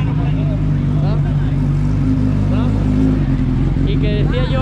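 A rally car races up the Subida a Chantada hill climb, its engine a loud, steady drone close by with shifting revs, under continuous commentary.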